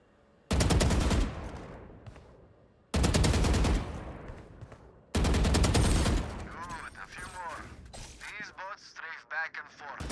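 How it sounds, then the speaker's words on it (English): Three loud, rapid automatic bursts of gunfire ring out in the Valorant tutorial, each followed by a decaying echo, then a trailing flurry of smaller clatters and impacts. "move to face each bot, then stop and shoot while standing still"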